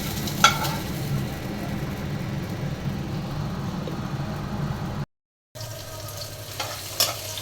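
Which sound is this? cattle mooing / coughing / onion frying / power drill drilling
onion frying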